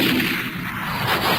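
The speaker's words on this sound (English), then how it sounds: "Kane, get down. Shotgun." A shotgun blast with a loud, broad, rumbling boom that fills the moment, heard at a fair distance in a dramatized scene near a shack, with no talk.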